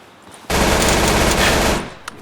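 A sustained burst of rapid automatic P90 gunfire in the video game Project Hardline, loud and dense for about a second and a half, then cutting off abruptly.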